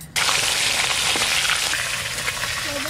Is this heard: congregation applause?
no